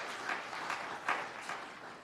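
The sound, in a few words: congregation applause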